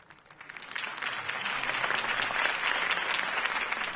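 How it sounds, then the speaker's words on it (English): Applause from a crowd in a video game swells up quickly and then continues as a dense, steady patter of clapping. "If only Mr. Wayne, my campaign's largest backer, could have heard that applause"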